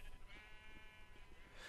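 Sheep bleating in Minecraft, a steady wavering sustained bleat lasting under two seconds against faint background.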